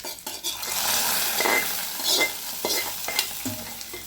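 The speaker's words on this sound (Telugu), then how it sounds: "తాలింపు చక్కగా ఫ్రై అయింది కదండి." Tempering for tomato rasam frying in a pan, a continuous close sizzle of hot oil with a spoon stirring and scraping against the metal, and a few sharper clinks breaking through.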